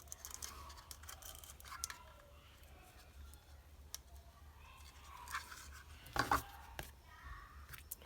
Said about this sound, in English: Stab myself with the scissors.